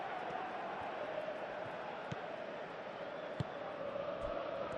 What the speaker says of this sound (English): the crowd are reacting to that now